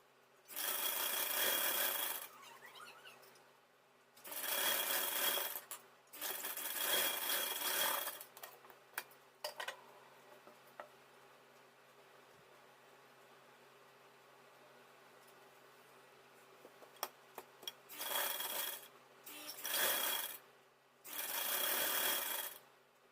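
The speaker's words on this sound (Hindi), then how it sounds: "तो चलिए इसको सिल लेते हैं।" Sewing machine stitching a baby dress, running in several bursts of rapid whirring several seconds long, separated by quiet pauses with faint handling clicks.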